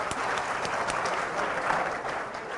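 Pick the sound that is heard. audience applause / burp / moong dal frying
audience applause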